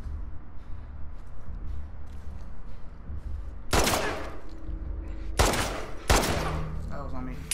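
Shotgun blasts in The Last of Us Part II, three sharp, loud booming shots spaced a second or two apart over quieter rumbling game ambience.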